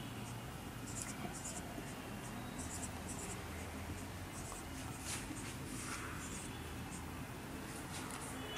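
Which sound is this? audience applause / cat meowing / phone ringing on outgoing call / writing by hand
writing by hand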